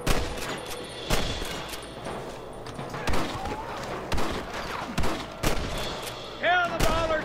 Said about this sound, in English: I shot at you right in the face